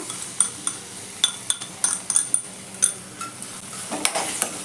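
Quick scraping and clinking of a utensil stirring tomato paste in a frying pan, with a steady sizzle underneath; close and moderately loud, no voices.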